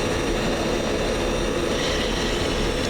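Steady, loud F-16 jet engine roar during takeoff in a flight simulator, a continuous broadband rumble and whine that holds evenly throughout with no speech.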